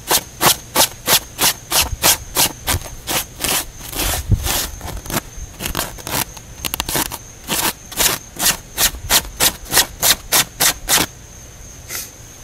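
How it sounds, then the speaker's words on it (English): A serrated knife scrapes repeatedly across the coated logo on a military-style drawstring bag, producing rapid rhythmic rasping strokes in quick bursts, close and loud, with a short rougher pause midway and no talk. "See if we can scrape off the logo."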